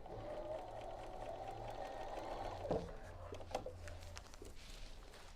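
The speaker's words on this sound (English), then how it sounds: "we're going to sew through all 8 layers of that" A sewing machine stitches through eight layers of quilt fabric at a longer stitch length, running as a steady close motor whir that slows and stops about halfway, followed by faint handling clicks.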